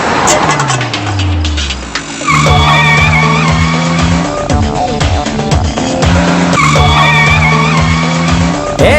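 Car tires skid and squeal to a loud halt in a Hindi-dubbed action film scene, a long screech with engine roar and descending tones, the braking sounding repeatedly over several seconds.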